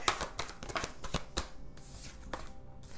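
A Gypsy Lenormand fortune-telling card deck is shuffled by hand, giving close, crisp riffling bursts and soft flicks in quick irregular succession with short pauses between.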